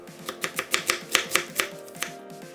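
A knife slices an onion into thick strips on a cutting board, about a dozen crisp, evenly spaced chopping taps close up, with no talking.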